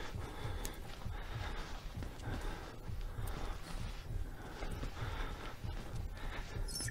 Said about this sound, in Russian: Это я такие шаги издаю, или это он?